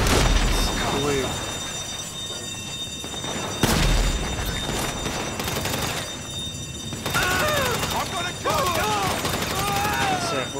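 Gunfire in GTA Online: bursts of shots and sharp booms come in uneven clusters, with rapid automatic rattles alongside, while people talk over the action.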